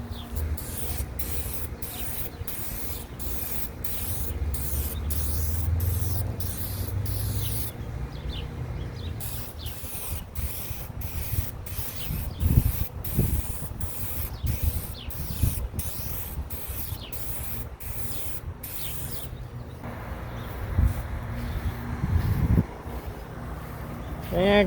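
Repeated short bursts of spray coating hitting a restored car headlight outdoors, each hiss starting and stopping in a steady rhythm, with faint traffic and rubbing sounds underneath.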